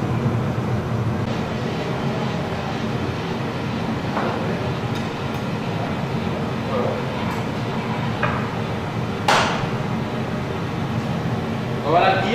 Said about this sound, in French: il y a le four de réchauffe qui est allumé, il marche au gaz